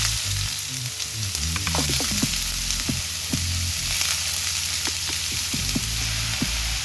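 Sliced onion fries in coconut oil for a bitter gourd stir fry, a loud, steady close sizzle with occasional crackles and stirring scrapes, with no voices.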